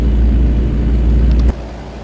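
Kenworth K100E truck engine in American Truck Simulator, a deep steady rumbling drone that cuts off abruptly near the end, loud and close with no talk over it.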